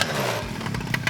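Small motocross bike engine cranking and catching, a rough buzzing two-stroke drone with sputtering bursts, close and steady through the whole stretch.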